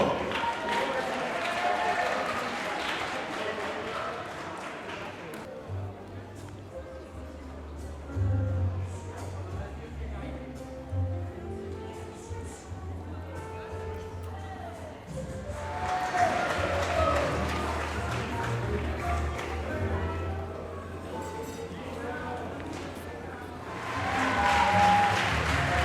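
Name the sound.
audience applause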